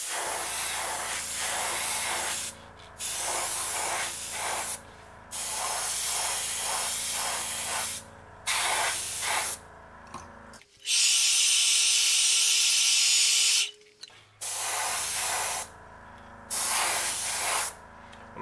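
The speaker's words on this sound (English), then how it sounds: "I'm gonna go ahead and spray this green up around the eyes." An airbrush spraying thin olive green ink onto a fishing lure gives repeated short bursts of hissing spray in an irregular rhythm, close and clear, with one longer, louder sustained burst in the middle.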